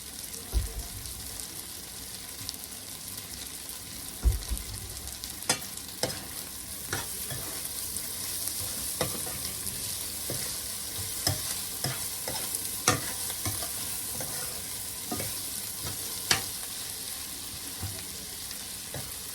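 Bulgur is roasted in a pan with a continuous soft sizzle, as a spoon stirs and scrapes the grains in irregular strokes, with occasional sharper knocks against the pan.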